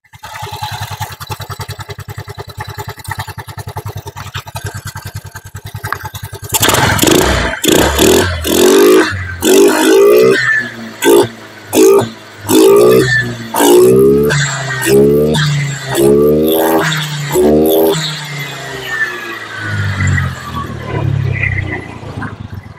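Honda Vario carbureted scooter with an unstable idle: a steady low putter of the engine idling nearby, then louder rhythmic blips as the throttle is opened and the revs rise and fall.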